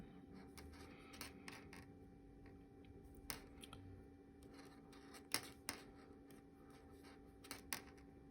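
Knitting needles clicking while casting on a garter tab, with faint, irregular taps and clacks, some louder than others, spread across a quiet room and no talking.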